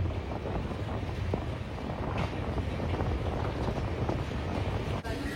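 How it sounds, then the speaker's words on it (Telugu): Cool wind buffets the microphone aboard the Janshatabdi Express as it crosses the Krishna bridge, a continuous rumbling rush with the train's low drone beneath and a faint clank near the end. "అబ్బా చల్లగాలి వస్తుంది."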